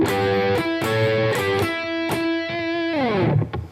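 A distorted electric guitar slowly plays a lick, sustained notes and bends ringing out one at a time, loud and alone, with a downward slide near the end.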